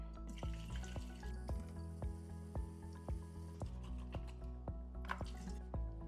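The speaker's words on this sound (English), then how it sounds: "Draining and rinsing my corn" Canned corn drained and rinsed in a colander under running water, a steady close trickle and patter of water over kernels with intermittent drips, continuous without talk.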